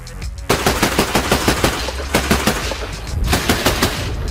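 Rapid bursts of heavy 30 mm autocannon fire from a BTR-82A armored vehicle, loud, sharp reports in quick succession with short pauses between volleys.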